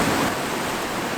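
Ocean waves on a rocky coastal shoreline make a steady, broad wash of surf, with water surging against the bank. The roar is continuous and fairly loud, with no voices.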